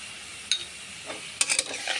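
A spoon stirs chili powder, turmeric and salt into a bottle gourd curry with tengra fish and dried fish, with gentle sizzling beneath. Several short scraping strokes come close and fairly quiet, with a small cluster near the end.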